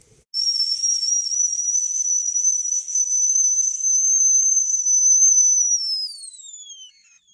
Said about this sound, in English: That bung is a whistle bung, so when the pressure builds up and the steam builds up, it comes out